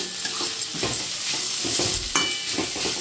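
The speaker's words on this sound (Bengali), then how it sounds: "এই যে এখানে লাউয়ের খোসাটা ভাজা হচ্ছে" Bottle gourd peel frying in a pan gives a loud, close, continuous sizzle with occasional stirring scrapes and small pops, with no voices over it.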